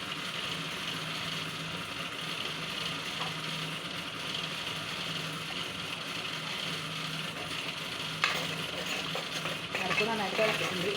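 Fish curry bubbling and simmering in a pan, a close, steady sizzling hiss with small pops throughout, joined by a few brief utensil clicks near the end.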